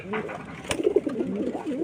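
A male pigeon in a rooftop loft cage coos softly and close, a short burbling call under a person speaking nearby.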